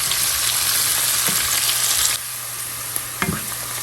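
Onions soften in hot oil in a pan for malai kofta, a steady close sizzle with a few stirring scrapes, the frying dropping slightly quieter partway through; no talking.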